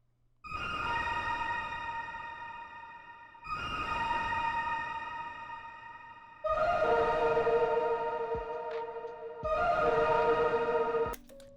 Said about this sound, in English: the last thing I have for the melody is this little sort of synth roll thing that I have that sounds like this